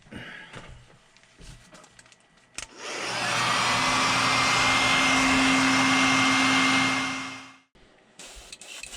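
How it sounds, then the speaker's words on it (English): Heat gun blowing hot air to set airbrush paint on a fishing lure, a steady loud whooshing roar with a faint whine that starts abruptly, holds for several seconds and cuts off, alone without talk. "let's give it a heat set."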